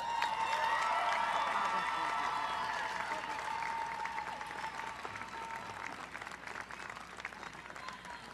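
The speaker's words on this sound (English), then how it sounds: "Let's give Barbara another round of applause" Sustained applause from a university freshman convocation audience, loud at first and gradually thinning out, with scattered claps and some voices mixed in.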